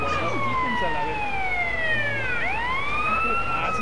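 Fire truck siren in GTA San Andreas, a loud continuous wail sweeping down then rising again, heard over engine rumble with voices faintly in the background.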